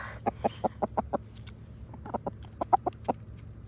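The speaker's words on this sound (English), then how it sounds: "Now, the Brahmas and Luna are very, very happy to eat out of my hand" Brahma chickens fed scratch grain cluck in short, soft bursts, a quick series of close, evenly spaced notes, a pause, then another uneven cluster of clucks over a low background hum.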